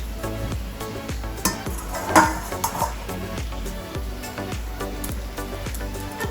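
Food being served at home, with a mix of steady clinks and scrapes of utensils against dishes and a brief louder clatter partway through, heard close with no voices.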